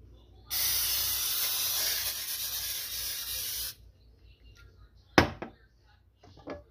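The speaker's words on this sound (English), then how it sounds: "I forgot to spray my pan." Cooking spray is released onto a pan before eggs are cooked: one continuous hissing spray lasting about three seconds, close and fairly loud, followed by soft clatter and a sharp knock of kitchen handling.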